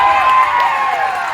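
Audience noise at a Bihu performance event, a brief burst of crowd cheering and clapping with some shrill tones, fairly loud and steady throughout with no talk over it.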